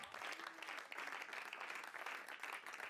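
An audience at a church gospel session applauds, a soft, fairly distant wash of clapping that runs evenly for several seconds without fading.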